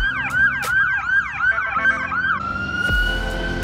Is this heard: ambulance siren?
yes